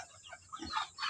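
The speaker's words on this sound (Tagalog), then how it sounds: "Ayan na yung inahin ko mga boss." A mother hen on a backyard farm clucks softly near her chicks, giving a few short, quiet, close clucks in a brief burst.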